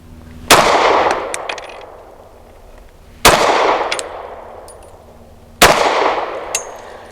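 Three loud, sharp pistol shots from a Sig P365 Fuse firing Hornady American Gunner 115 grain ammunition, spaced about two to three seconds apart outdoors, each crack followed by a short ringing decay, with no talking.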